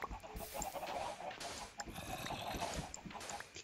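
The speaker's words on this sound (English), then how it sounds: "Oh, hi, Mr. Chicken." Minecraft chickens cluck repeatedly in short bursts amid game sounds, with people talking over them throughout.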